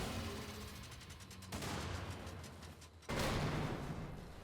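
Explosions and bursts of gunfire in the Wolfenstein video game, a dense rumbling barrage with two sudden loud blasts that jump the level, rolling continuously without any talk.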